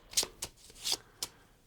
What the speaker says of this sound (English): We take the discard pile, shuffle it,